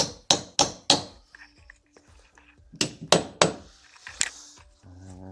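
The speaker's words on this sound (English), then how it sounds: "Couple taps with the hammer." A hammer tapping hinge pins into a newly installed door: sharp metallic taps in quick groups of three or four, separated by pauses with faint small clinks and handling noises, close and clear.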